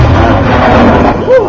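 An explosives detonation at a demonstration at New Mexico Tech, heard as a loud, heavy, sustained roar and rumble that fills the whole moment, with a faint voice near the end.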